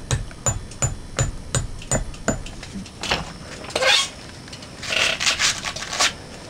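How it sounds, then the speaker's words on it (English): A shaping hammer raps on a wood carving in a steady run of sharp, close taps. Several louder, denser strikes follow, with no voices. "These are the shaping hammer. It works pretty good. You can texture with it too."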